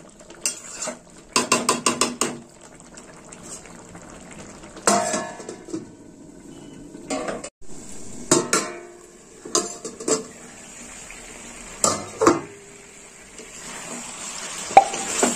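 Curd chicken curry stirred in a pan, with bursts of metal spoon scraping and clinking against the pan, then a lid clattering on; quiet pauses between the clusters of sharp clanks.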